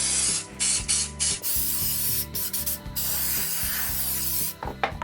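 Short bursts of silicone release spray hiss from an aerosol can, repeated several times in quick succession over a steady low mechanical hum, close and loud.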